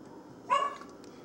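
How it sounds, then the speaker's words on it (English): A pet dog gives a single short bark, close and fairly loud, over quiet room tone. "My dog barking."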